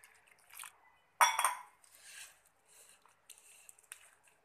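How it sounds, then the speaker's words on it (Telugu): Onion rava dosa batter stirred in a steel bowl while water is added little by little, soft scraping and sloshing with a sharp clink of the spoon against the bowl, close and quiet. "ఇప్పుడు కొంచెం కొంచెం వాటర్ పోస్తూ మనం దోశ బ్యాటర్ లాగా కలుపుకోవాలండి"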